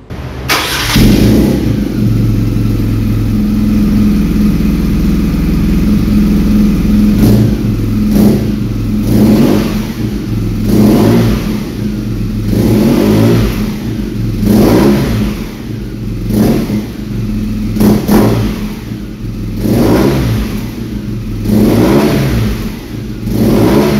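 A 2021 BMW R nineT motorcycle engine idles loudly, then revs repeatedly in sharp bursts, each rising and falling back, close and steady with no talking.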